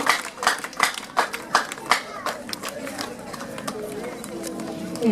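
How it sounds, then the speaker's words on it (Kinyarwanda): Rhythmic hand clapping from a group for a couple of seconds, then fading under a busy murmur of voices and crowd chatter. "amashyi menshi cyane, menshi cyane, menshi cyane, menshi cyane"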